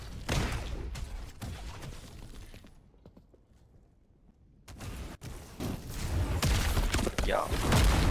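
A video game Phantom Shot attack, an Azure Flames mastery move, lets out a loud roaring blast that dips briefly, then a sharp crack and another sustained heavy rush of energy close up.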